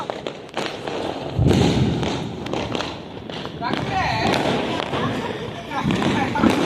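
A color bomb firecracker bursts at a Diwali celebration, a muffled thud followed by a crackling, sputtering burst that recurs a few times, with nearby voices and street noise throughout.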